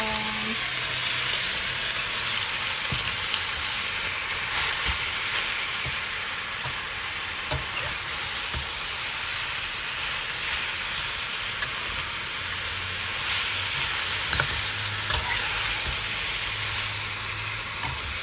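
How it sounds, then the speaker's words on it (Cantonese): Shredded cabbage and carrot stir-frying with sliced pork in a pan, a loud, steady sizzle and hiss throughout with occasional soft clinks of stirring. "倒埋啲椰菜落去"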